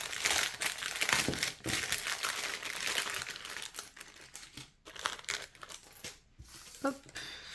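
Cardboard die cuts for scrapbooking being unwrapped from their packaging, giving close, loud crinkling and crackling of plastic wrapper in irregular bursts, with someone speaking French over the handling.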